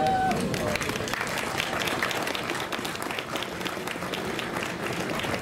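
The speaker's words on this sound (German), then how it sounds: "Applaus" Steady applause from a crowd at an outdoor street demonstration in Berlin, dense clapping holding at an even level throughout with no pause.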